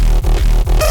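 An unprocessed riddim bass layers a deep sine sub bass under a gritty tonal layer, pulsing in short repeated hits with brief dips between them before a brighter, buzzier tail at the end, played alone.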